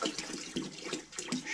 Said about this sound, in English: And then top it off with apple juice.